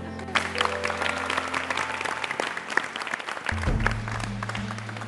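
A studio audience on a televised dessert-chef competition claps for a contestant's mother, with dense, sustained applause running throughout and a low musical hum joining near the end.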